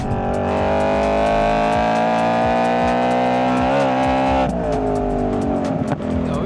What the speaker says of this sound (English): So you got to rev the absolute crap out of this to get going.